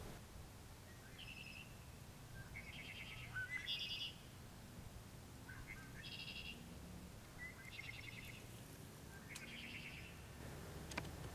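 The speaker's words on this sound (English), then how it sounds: "I just love the call of the red-winged blackbird" A red-winged blackbird sings outdoors in early spring, repeating short buzzy, trilling song phrases about once every second or two, fairly faint over a quiet background hiss.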